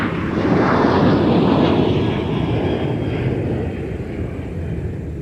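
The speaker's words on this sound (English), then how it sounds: "Sun Country 655 headed out to Denver" Sun Country flight 655, a departing airliner bound for Denver, takes off from Minneapolis–St. Paul airport with a loud, steady jet roar that swells early and then eases slightly, with no talking.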